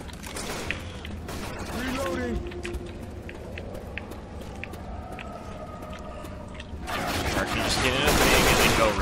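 Rapid gunfire bursts from Left 4 Dead 2 at a Loony Park custom map, crackling in dense volleys that swell louder near the end, with players talking over the shooting.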